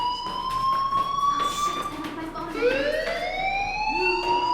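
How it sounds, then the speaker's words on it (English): A school fire alarm in the Life is Strange video game sounds continuously, a steady rising electronic tone that shifts pitch midway, loud and unbroken with faint background sounds. "Hey, do you hear that fire alarm? That means you should be outside."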